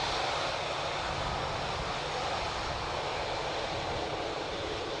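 A Ryanair airliner from Birmingham at Dublin Airport gives off a steady, dense engine roar, loud and unbroken, with no voices.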